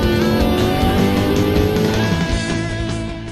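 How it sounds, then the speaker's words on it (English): A car with a 6L80E transmission and stock torque converter pulls hard off the line, its engine droning loud and close as revs climb steadily, with a rising whine that eases slightly near the end. "With the stock converter out of the hole, I'm waiting for the RPMs to get up to the power band."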